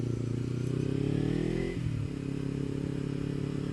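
A Kawasaki Ninja 300 fitted with an Akrapovič slip-on exhaust drones steadily nearby, its engine note shifting pitch as it eases off and picks up again, with a brief clatter in the middle and wind noise underneath.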